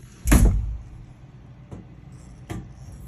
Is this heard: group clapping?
no